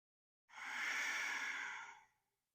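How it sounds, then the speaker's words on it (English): A single slow, mindful breath during a yoga core session, a soft airy exhalation that swells and fades over about a second and a half, heard alone and close. "Breathing fully in and fully out."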